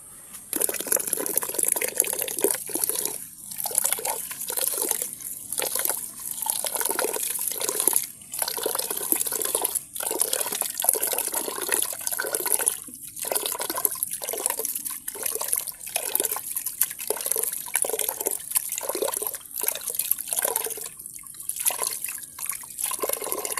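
Corn grits washed by hand in a pot of water before cooking: continuous sloshing and trickling water, broken by repeated short swishes and pauses as the grains are stirred and rinsed, close and moderately loud.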